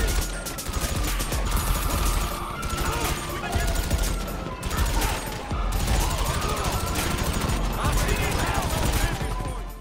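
Rapid automatic gunfire from the advanced rifle or Special Carbine Mark II assault rifles in GTA Online, loud sustained bursts of shots with a brief pause midway before firing resumes.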